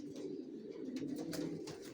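Racer pigeons coo steadily in a loft, a low continuous throaty murmur with a few sharper flutters or taps on top, close and fairly soft.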